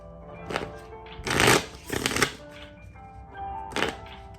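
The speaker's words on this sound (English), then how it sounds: "Shuffle the little deck a little bit, get some clarifications going on." A deck of cards shuffled several times in quick riffling bursts, close and crisp, with short pauses between.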